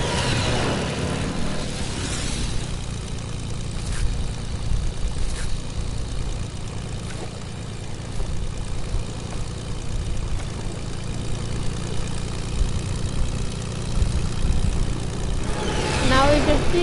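A plane's engine drones steadily in the Fortnite video game, a continuous propeller-like hum running throughout with other game sounds layered over it.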